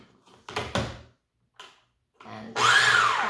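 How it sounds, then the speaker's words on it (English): Clunks and knocks of handling kitchen equipment give way to a blender suddenly whirring up to speed, loud and close, as it blends chunky sauce ingredients. "I would suggest, if you don't want to taste the chunks, to blend, use the blender again."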